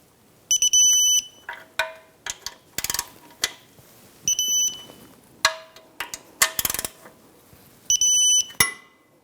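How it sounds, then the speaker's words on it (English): An electronic torque wrench tightens Jeep Renegade oil pan bolts to 17 foot-pounds, giving loud, close bursts of shrill beeping that repeat bolt after bolt, mixed with sharp clicks and ratcheting snaps. "We're going to torque those to 17 foot-pounds"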